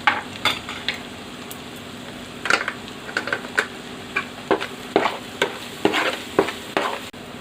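Turmeric and chili powder fry in oil for a fish curry, a steady close sizzle broken by repeated scraping clicks of a spoon stirring the pan, no voices.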